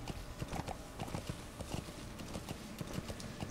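A ridden horse in Metal Gear Solid V: The Phantom Pain gallops with fast, regular hoofbeats, a continuous clip-clop rhythm at moderate volume over faint game background noise.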